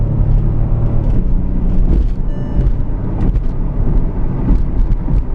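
A 2012–2015 Bentley Continental GT engine and exhaust, delivering a steady, loud, deep rumble that holds for several seconds with slight swells, no voices over it.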